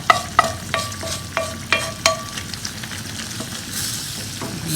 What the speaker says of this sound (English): I'm going to stir it all up and it has to simmer for another 5 to 8 minutes.